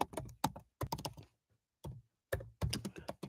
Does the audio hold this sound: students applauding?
no